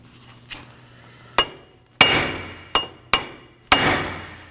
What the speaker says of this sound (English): strike it with a hammer on top while holding the bottom so it doesn't fall out